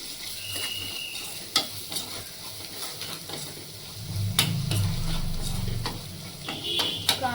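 Crab curry being stirred in a pan, a soft sizzle with intermittent sharp scrapes and clicks of a spoon, the bubbling swelling louder midway.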